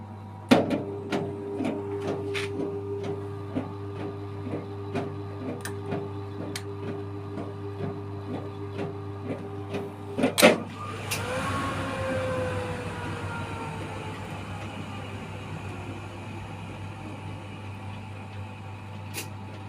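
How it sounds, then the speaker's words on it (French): A Brandt washing machine hums steadily with regular ticking clicks, then after a thump its drum starts the spin cycle and a broad whirring rush builds and carries on, fairly quiet and without talk. "Là, elle va faire l'essorage."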